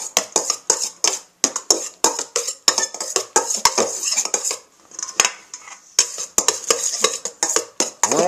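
Cinnamon pecan mixture stirred with a knife in a bowl, giving a steady run of close, sharp clinks and scrapes of metal against the dish with brief pauses, no talking.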